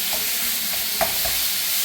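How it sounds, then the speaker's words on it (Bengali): Taro leaves (kochu shak) fry in oil in a pan with a steady, close sizzle and a few soft stirring clicks, with no voices. "কচু শাকটা একটু তেল ভেজে নিলাম"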